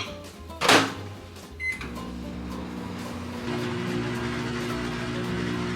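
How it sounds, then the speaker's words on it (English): A microwave oven heating frozen Thai vegetable gyoza from Trader Joe's starts with a sharp button beep and door clunk, then settles into a steady, close mechanical hum that runs to the end. "I'm going to just microwave these to like pre-cook them a little bit before I add them in."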